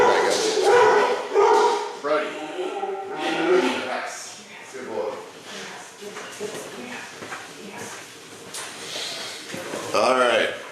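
A dog barks and yips several times close by, the sharp calls breaking through ongoing talk from a man.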